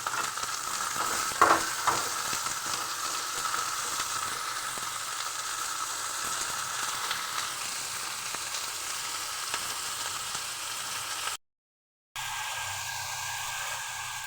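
Small pieces of chicken fry and get stirred with browned onions in a pan, making a continuous loud sizzle and hiss that cuts out briefly near the end.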